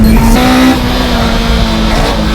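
A Mazda Roadster and a Hachiroku race on a track, their engines a loud, close, sustained drone that drops in pitch partway through, with no voices.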